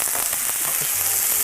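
Onions frying in a pan for Peruvian locro and being stirred, giving a loud, close, continuous sizzle with faint clinks of the spoon.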